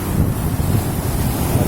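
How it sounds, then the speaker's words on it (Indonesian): Large waves breaking on a Red Sea beach in Jeddah, a continuous close roar of surf mixed with heavy wind buffeting the microphone, steady and loud throughout with no voices. "ombaknya lumayan besar ya"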